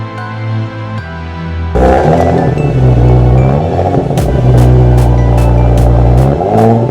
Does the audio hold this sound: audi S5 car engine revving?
yes